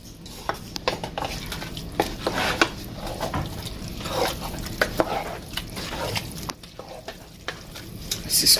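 Jerk chicken wings being turned and stirred in a pan as they cook, with steady sizzling and frying under repeated scraping and clinking of a utensil against the pan, fairly close.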